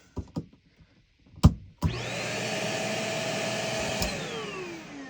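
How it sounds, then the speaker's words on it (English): A household vacuum cleaner plugged into a newly installed GFCI outlet whirs up after a few clicks and runs steadily at close range, a loud continuous motor drone with a rising then falling whine, no talking. "Take our vacuum and we'll plug her right in."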